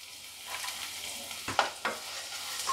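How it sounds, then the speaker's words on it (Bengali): Onions fry lightly in a little oil in a pan after the whole five-spice tempering has toasted, a soft steady sizzle broken by a few scraping stirs, close and fairly quiet. "একটু হালকা করে ভেজে নেব পেঁয়াজগুলো"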